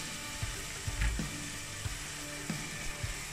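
Noodles going into a pot of boiling salted water, with a continuous bubbling hiss and several soft clunks and knocks as the pasta drops in and settles against the pot.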